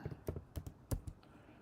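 Someone types on a computer keyboard, a brief run of soft, close, irregular key clicks with no talk.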